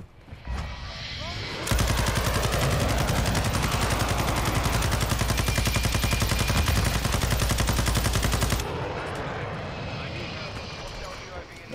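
An anti-air LMG in Call of Duty: Modern Warfare II fires at VTOL aircraft in one long, rapid, unbroken burst of about seven seconds. The gunfire sits over a droning aircraft engine, and someone talks throughout.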